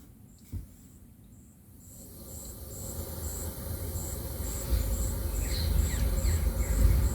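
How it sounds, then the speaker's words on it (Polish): Forest nature soundscape played through a Kia XCeed multimedia system: dense insect and cricket chirping with repeated bird calls, a steady bed of sound that grows louder, no talk. "I tu mamy na przykład las pełen życia."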